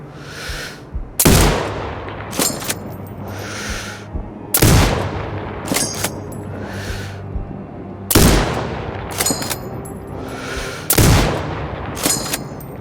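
Sniper rifle shots in Sniper Ghost Warrior, a firing-range level: four loud, sharp gunshots spaced a few seconds apart, each with a short ringing tail, over a low steady background hum.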